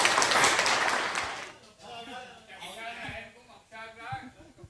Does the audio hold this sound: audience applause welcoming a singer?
yes